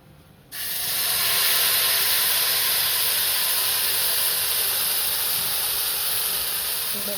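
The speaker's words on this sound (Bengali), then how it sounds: "আর কিছুটা জিরে ফোড়ন দিয়ে দিলাম।" Cumin seeds and dried red chili hit hot oil for tempering, setting off a sudden loud, steady hiss about half a second in. The sizzle stays close and strong, with no talk over it.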